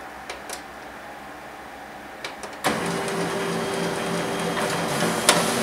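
An HP LaserJet P2055 laser printer prints a page: a few faint clicks, then feeding starts with a thump and gives way to a steady close mechanical whir with an occasional tick, without talk.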